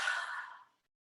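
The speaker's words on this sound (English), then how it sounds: "Breathing out through our mouth." A single breath is pushed out through the mouth during a yoga session, a soft airy exhale near the microphone that fades out after under a second, followed by silence.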